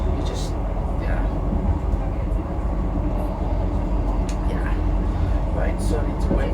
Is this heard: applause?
no